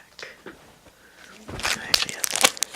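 Crinkly plastic wrapper of a Dragon Ball Super trading card pack crackles and tears close up in short bursts, after a brief soft voice.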